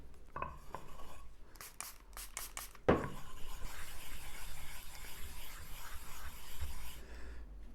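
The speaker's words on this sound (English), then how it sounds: "Let's sharpen it with a 8000 grit stone." Gouge sharpened on an 8000 grit Japanese water stone, starting with a few light taps and clinks, then steady close wet rubbing strokes that continue to the end.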